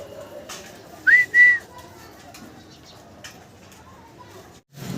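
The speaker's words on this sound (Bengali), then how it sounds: "অস্থির অস্থির ডাকাটাই করতে আছে রেসার কবুতর" Two short whistling calls from racing pigeons stand out over a quiet background murmur, followed by faint scattered noises.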